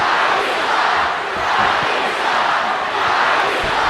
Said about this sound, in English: this crowd voices its disapproval